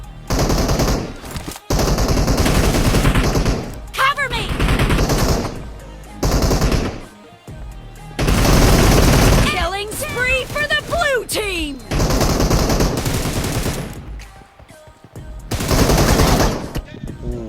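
Gunfire in the mobile battle-royale game PUBG Mobile, loud sustained automatic bursts in several long volleys separated by brief pauses, with game sounds and a voice talking in the gaps.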